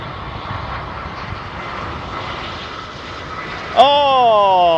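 Jet engines of a Lufthansa airliner give a steady broad roar at moderate distance. Near the end a loud whining tone suddenly rises above it and holds.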